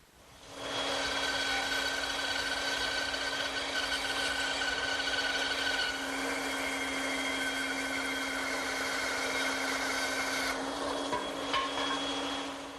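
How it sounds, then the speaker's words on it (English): Bandsaw cutting a wooden table leg blank for a console table, a steady close whine with a sustained hum that holds evenly for about ten seconds, shifting slightly midway and near the end, with no talk. "I'm going to trace the outline on the blank, and then I'll cut it over at my bandsaw"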